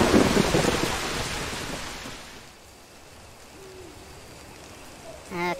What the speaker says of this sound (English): I think the rain here is letting up